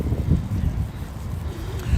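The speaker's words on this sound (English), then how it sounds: "it's windy" Steady wind buffeting a microphone outdoors in a New York City snowstorm, a low rumbling roar with gusts that swell and ease throughout.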